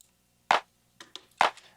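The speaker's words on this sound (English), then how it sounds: "the clap that I'm using sounds like this" A clap sample from the Oliver Operator kit, played through a low cut filter in a house track, strikes twice about a second apart as sharp, close hits, with a few fainter ticks between them.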